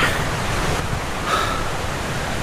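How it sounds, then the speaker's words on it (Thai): Waterfall and stream along the Kew Mae Pan nature trail on Doi Inthanon give a steady broadband rush of flowing water, close and constant, with no talk. "ตรงนี้ก็จะเห็นน้ำตกนะ น้ำตกเป็นลำธาร"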